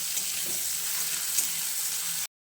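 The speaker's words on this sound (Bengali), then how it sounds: "আলুগুলোকে দিয়ে বেশ লাল লাল করে ভেজে নেব" Potatoes frying in hot oil for spinach curry, a steady close sizzle and crackle that stops abruptly.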